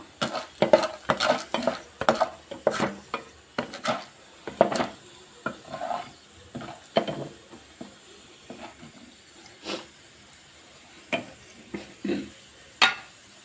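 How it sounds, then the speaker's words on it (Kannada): Chana dal being stirred in a pan for chutney powder, giving a series of sharp scraping clatters of a spoon against the metal pan at an irregular, steady pace, close by with no talk. "ಕಡಲೆಬೇಳೆ ಕಾಳು ಹಾಕಿ ಫ್ರೈ ಮಾಡ್ಕೋಬೇಕು"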